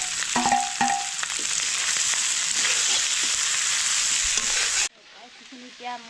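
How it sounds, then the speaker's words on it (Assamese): Pork fries loudly in a pan over fire, a dense steady sizzle with occasional scraping stirs, cutting off abruptly into quieter crackling near the end. "এতিয়া মই ভাজি ল'ম ধুনীয়াকৈ"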